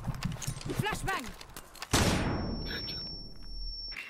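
A flashbang grenade goes off in a tactical shooter game, a sharp sudden bang that decays into a hissing wash, followed by a steady high ringing tone, with a player talking just before the blast.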